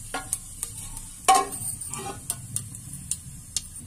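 Ground onion paste sizzles in a pan tempered with cumin and asafoetida, a quiet crackle broken by sharp ticks and spoon scrapes, with one louder burst near the start.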